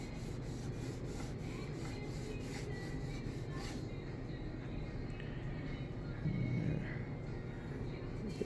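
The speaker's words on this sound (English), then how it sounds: "if you rub it in a little bit more, I mean, it literally takes a few seconds for it to come off" Sticky tape residue is rubbed off a surface with continuous, faint, close rubbing.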